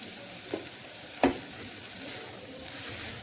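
Spices and samosa filling frying in a pan, a steady low sizzle running throughout with a couple of brief stirring clinks, close and alone with no talk.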